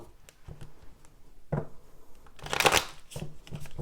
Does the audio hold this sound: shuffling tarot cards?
yes